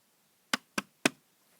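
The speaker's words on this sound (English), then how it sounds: "And then a knock at the door." Three sharp knocks rap on a door in quick succession, close and crisp against a silent background.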